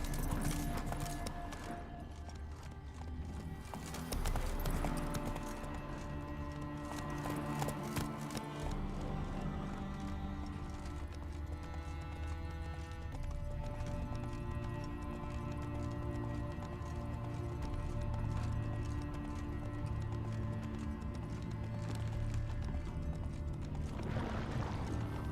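A horse gallops through The Witcher 3, its hooves keeping up a steady clip-clop for the whole stretch. The hoofbeats sit under dense game music and ambience, with no talking.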